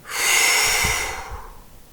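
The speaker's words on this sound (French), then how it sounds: "Inspirez profondément pour vous dynamiser et soufflez fortement." A deep inhale followed by a forceful exhale during a guided French concentration exercise: a single long, breathy rush of air, close and fairly loud, that fades out with no talking.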